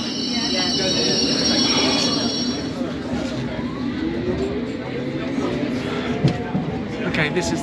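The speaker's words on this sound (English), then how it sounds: "this is the District Line train heading all the way to Upminster" A London Underground District Line train heading toward Upminster runs with a loud steady rumble, high wheel squeals drifting in and out, and a small clunk near the end.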